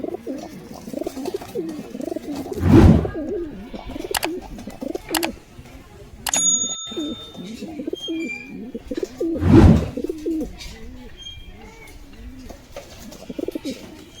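A pair of Deshi Metraj pigeons being released coo in low, repeated throaty phrases, with two bursts of wing flapping and a few faint chirps nearby.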